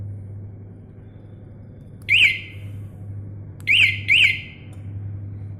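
An Autofy anti-theft scooter alarm gives three sharp electronic chirps, one alone and then a quick pair, loud and close over a low steady hum.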